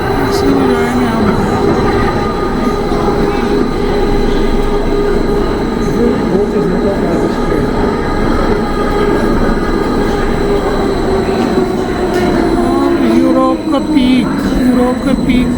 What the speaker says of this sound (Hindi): चलो अभी ये आ रही है ट्रेन, और जो ट्रेन आ रही है इसी में हम बैठेंगे और ऊपर जंग फराव जाएंगे।